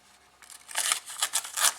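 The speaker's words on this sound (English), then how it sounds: "yeah, it's not going to cut the crinkled paper" A Zero Tolerance 0566 folding knife drags against crinkled paper in a few short, crisp rustling scrapes that grow louder toward the end, with no talking.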